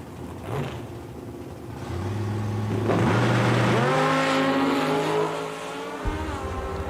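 Two drag race cars, a Kawasaki and an 08 Mustang Top Sportsman, rev loudly at a bracket race at Eddyville Raceway, engines rising in pitch together as they launch and pull hard, one cutting off abruptly near the end.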